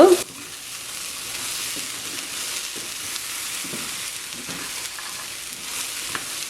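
Black chickpea sundal, a Sri Lankan dish, sizzles steadily in a hot pan. Occasional stirring scrapes come through the close, continuous frying hiss.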